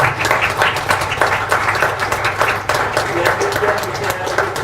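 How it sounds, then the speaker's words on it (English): Dense, steady clapping from a congress audience in Bangkok fills the room, with individual hand claps audible at close range and speech faintly beneath. "We should stand up and clap for"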